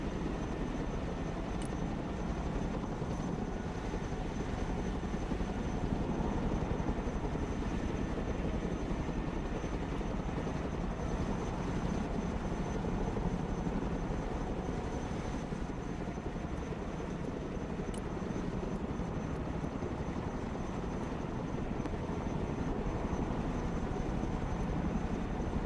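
A Chinook helicopter drones steadily overhead with a continuous thick rotor and engine roar that holds level throughout, with no voices.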